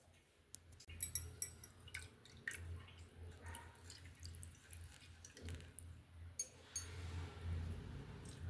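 Salt water, prepared for homemade pani puri, is poured through a cloth filter and strained into a container, giving faint irregular drips and small splashes in a quiet kitchen.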